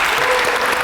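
Applause fills the room for the host at a firefighter civil-service fitness test session, a dense, steady wash of many hands clapping at once, loud and continuous with no gaps.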